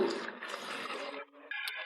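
Water poured into a pot of rice and masala for kuska, a close, steady splashing pour that briefly breaks off and then resumes, with no voices.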